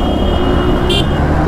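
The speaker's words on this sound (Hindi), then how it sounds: "यहाँ पे ट्रैफिक ही ट्रैफिक होता है।" Heavy road traffic rumbling close by on a busy Indian street, with a short car horn blast cutting through the steady engine noise near the end.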